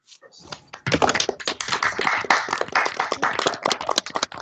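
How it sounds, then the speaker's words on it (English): Scattered clapping from a few unmuted participants in an online Teams class meeting, uneven overlapping claps with a thin, close, slightly compressed quality, rising after a quiet start and continuing steadily. "Let's all quickly unmute and give Sydney a round of applause for coming and visiting with us."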